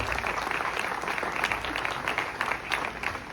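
Moderate applause from an audience at an ambassador's national day speech, a steady patter of clapping throughout at a modest distance.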